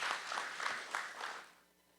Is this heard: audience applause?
yes